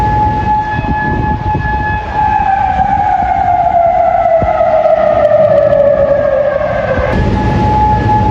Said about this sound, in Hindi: सायरन बजते हुए सुनाई दिए हैं।